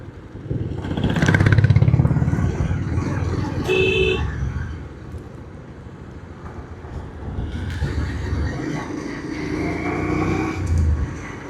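A motorcycle rides along a narrow, winding mountain road in Solan, Himachal Pradesh, its engine droning steadily and rising and falling with the bends, with brief horn toots from nearby traffic and a voice speaking over it.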